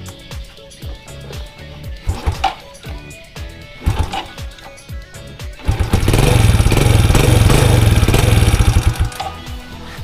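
A Yamaha Vega motorcycle, previously dead with a loose cam chain, gives several clattering cranking attempts, then fires and runs loudly up close for a few seconds before dropping away.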